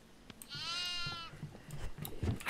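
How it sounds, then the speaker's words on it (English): In the horror video game Devour, a goat bleats clearly for about a second with a wavering, nasal cry, followed by thumping footsteps and game noise, with no talk over it. "The goat went upstairs, bro."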